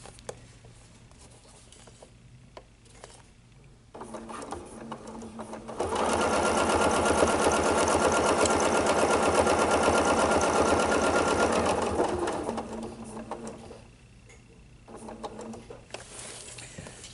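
A sewing machine stitches a quilted table runner guided by a ruler on top of the fabric, with a loud steady run in the middle flanked by quieter stretches of slower stitching and pauses.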